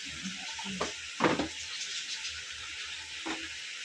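White cumin and dried coriander sizzle softly in a hot pan, with a couple of sharp stirring scrapes and a knock against the metal.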